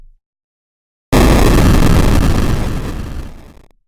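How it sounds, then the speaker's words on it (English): Bitcrushed 8-bit style explosion effect bursting in suddenly after silence, a loud gritty crunchy roar that holds and then decays over about two seconds. "as far as that Bitcrushed 8-bit style, I think explosions work"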